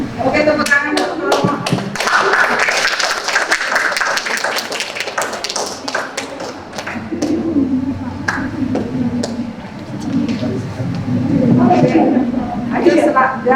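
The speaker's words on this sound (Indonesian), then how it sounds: "tepuk tangan dulu" A group in a chemistry class claps hands together, a dense run of sharp taps at the start that thins out, with voices and classroom chatter continuing underneath.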